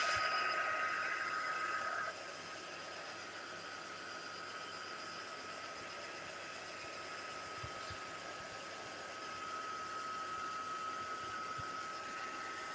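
A hair dryer blows steadily over a piece of mixed media artwork, a faint continuous whooshing hiss with a thin whine, slightly louder at first then settling.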